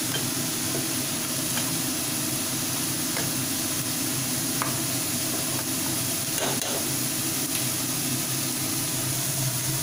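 Bottle gourd frying in a pan with sugar for a sweet pudding, a loud continuous sizzle with steady hiss and occasional light stirring taps, close and uninterrupted.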